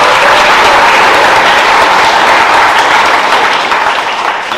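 Loud, dense applause from a large audience at an Independence Day celebration, a continuous roar of clapping that holds steady and then tapers off slightly at the end.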